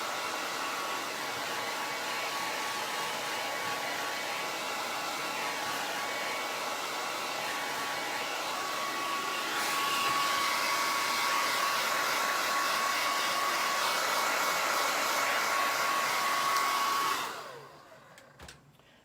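A hair dryer blows over freshly applied craft paint dots, giving a loud continuous whooshing hum that steps up in intensity midway, then cuts off abruptly near the end, leaving quiet.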